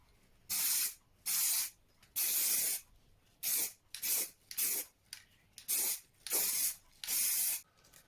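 Aerosol spray paint is applied to a custom motorcycle in short hissing bursts, about nine separate sprays of varying length with brief pauses between, close and loud, no talking.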